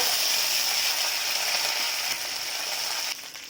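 Mustard seeds crackle and splutter in hot oil, a close, busy sizzle of rapid pops that quiets slightly near the end.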